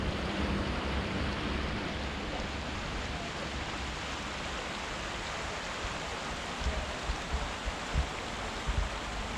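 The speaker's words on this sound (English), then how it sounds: "There's a little creek here" A small creek runs through a town in Greenland with a steady, soft rushing of water, continuous and even, with a few faint thumps near the end.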